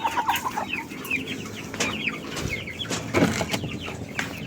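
Hungry chickens cluck and chirp in a busy, overlapping flock while ipil-ipil seeds are scattered for them, with varied short calls at close to moderate range and no talking.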